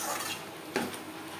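Mutton being stirred with spices in a pan over low to medium flame while cooking a dhaba-style mutton curry, giving a soft steady sizzle with a brief scrape of the spoon near the middle.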